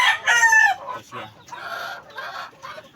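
A Sweeper Grey hen clucks in a few short, scratchy bursts close by, with quieter gaps in between and no talking.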